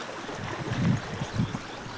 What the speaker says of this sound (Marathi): हे बघा कसं पाणी वाहते आमच्या वाड्याने